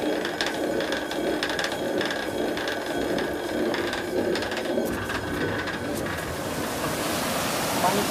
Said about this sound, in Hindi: यहाँ से देखिए कि कितने फोर्स से पानी नीचे जा रहा है, जो टरबाइन को नीचे घुमाता है